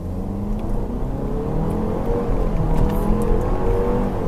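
An all-wheel drive car accelerates hard, its engine revving and whirring loudly and steadily up in pitch, close by with no talk.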